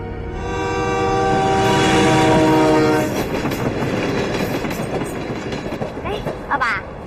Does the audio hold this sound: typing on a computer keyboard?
no